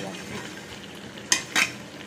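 Curry slowly frying in a pan with dried and green chillies, a soft sizzle underneath two brief metallic scrapes of a stirring utensil against the pan.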